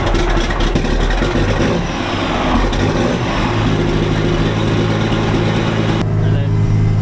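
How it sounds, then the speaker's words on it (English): FV180 Combat Engineering Tractor engine cranking, catching and settling into a loud, steady idle, with a deep constant rumble filling the whole stretch and a voice talking over it. "turn him on, and then fuel pump, a little bit of throttle, got all the throttle, and then start."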